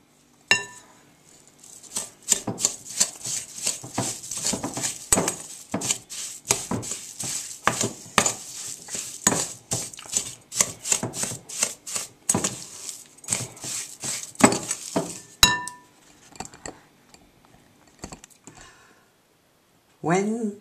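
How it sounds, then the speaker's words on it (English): Butter and sugar are creamed together in a bowl, giving a long series of quick scraping and clinking taps from a utensil against the bowl, steady and close, then a pause before a few final knocks. "Now cream the butter and the sugar together."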